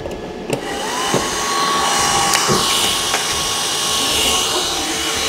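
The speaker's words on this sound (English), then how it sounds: "Here's the hair dryer. I use the hair dryer here." Hair dryer running off an Ecoflow Delta Pro power station, a steady loud blowing whoosh that holds for several seconds with a few sharp clicks over it.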